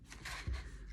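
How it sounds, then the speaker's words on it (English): Scissors snip through paper during a Chanukah craft, a faint, short cutting sound in a quiet room. "So I'm taking my scissors and I'm cutting right there."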